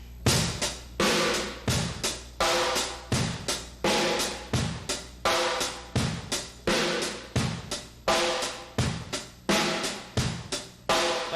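A funky drum groove plays up close, sharp hits alternating between two distinct tones in a steady repeating pattern, with no voices.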